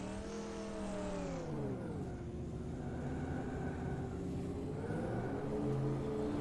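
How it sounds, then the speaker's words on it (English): A Formula E race car in rFactor 2 gives off a steady electric whine that rises, dips and climbs again in pitch as it accelerates and slows, loud and continuous with no voices. "The Formula E cars are surprisingly fun for as little sound as there is."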